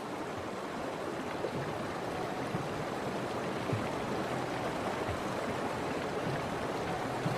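Cold, fast river water rushes continuously where bison calves cross, a steady loud broadband roar with no distinct splashes or voices.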